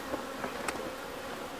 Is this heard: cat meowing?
no